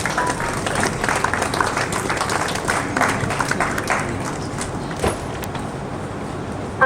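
An audience at a university environmental award ceremony claps to welcome an honoree: a sustained wash of crowd applause, even and moderately loud, with a sharp knock near the end.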